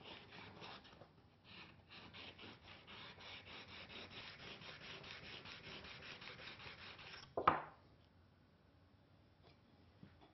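Steel scraper edge rubbed back and forth on a diamond plate with a wooden block, a soft steady rasping stroke sequence, faint and close, ending with a sharp knock.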